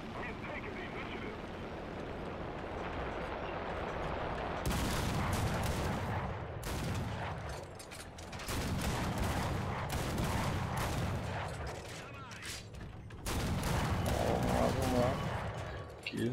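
Tank cannon fire from an IS-2 heavy tank in the War Thunder video game, with several loud booming shots at irregular intervals and crackling battle noise between them, while someone talks over the action.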